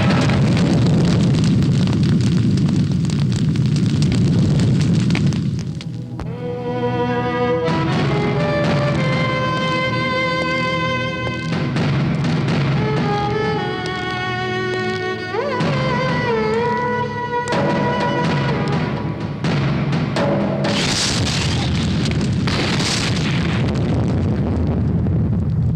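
Bomb blasts hit a city in a Hindi-dubbed South Indian action film, opening with a loud roaring rumble and closing with heavy bursts, with swelling music playing in between.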